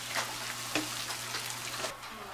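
Caramelized onions sizzle quietly in oil in a frying pan, a soft steady hiss with a few small pops and brief stirring clicks, faint and close.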